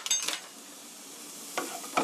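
Flour is stirred into a cream sauce in a pan, producing soft sizzling under a few distinct utensil scrapes at the start and end of the stirring.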